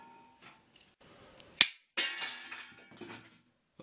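A gun fires at cans outdoors, with one sharp, loud crack followed by a second burst, then a quieter clatter and rattle as the targets are struck, with no talk.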